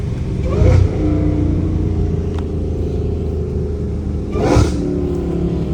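An 800 hp Dodge Hellcat Redeye, out in the rain, idles with a heavy rumble and blips its throttle twice, short loud revs that crackle with pops, close by.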